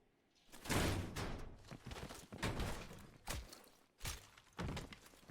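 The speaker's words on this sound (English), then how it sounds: "Open the door." A heavy door in Call of Duty: Black Ops Cold War opens with a series of loud thuds and clunks, several separate impacts spread across a few seconds with brief gaps between them.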